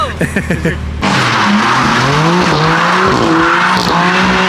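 A BMW M3 drifting on a street, its engine roaring loudly and tires squealing in long wavering skids close by, after a short stretch of engine revving.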